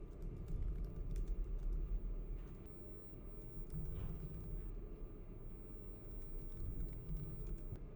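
Quiet keystrokes come from a computer keyboard as someone types code, soft irregular clicks in loose bursts over a low background rumble, close but faint.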